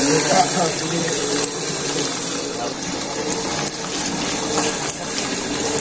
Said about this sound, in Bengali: এই যে দুধটা আসতেছে এপাশ দিয়ে, আর এপাশ দিয়ে আপনার ক্রিম আসতেছে।